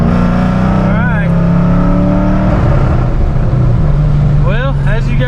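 Ford Mustang GT V8 revving hard and bouncing off a 4,500 rpm rev limiter, a loud, steady engine roar with repeated stuttering cut-outs near the start and again near the end, heard close up.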